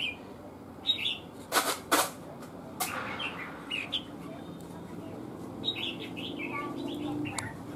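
Caged red-whiskered bulbul giving a few short, bright chirps and calls, with scattered bursts across the clip over a quiet, noisy background.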